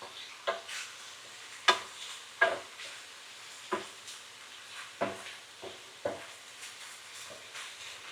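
Garlic and spring onions cooking in butter with ham for a mushroom risotto, a soft steady sizzle broken by about ten spoon stirs scraping the pan at an uneven, unhurried rhythm.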